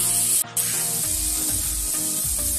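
Tomatoes and onions sauté in a pan in a bachelor kitchen, giving a steady, loud, close sizzle and spray that runs throughout with a brief dip near the start; no talking.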